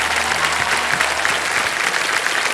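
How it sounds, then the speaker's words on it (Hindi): Studio audience applause on the Kaun Banega Crorepati Season 16 game show set, a dense, steady wash of many hands clapping that fills the whole stretch without pause. "तालियां बज जाएं इनके लिए।"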